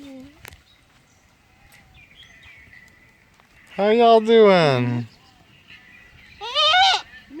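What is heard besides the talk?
goats bleating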